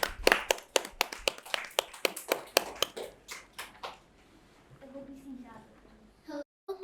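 Audience clapping for a speaker at a junior public speaking competition, a run of distinct claps in a loose rhythm that thins out and fades, with voices talking as it ends.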